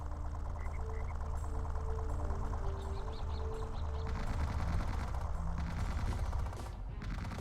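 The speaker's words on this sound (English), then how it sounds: "Basically, we have a machine gun and they have heavy machine gun." Heavy machine gun fire in the strategy game Original War, dense overlapping bursts of rapid shots running steadily throughout alongside other battle noise, loud and continuous without any talk.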